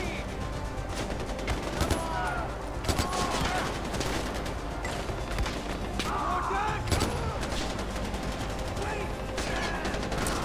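Far Cry 4 combat gunfire, dense bursts of rapid shots and crackling volleys filling the whole stretch loudly and continuously, with game sounds layered around them.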